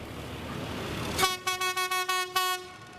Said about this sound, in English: The train passes La Tacunga and is approaching Salcedo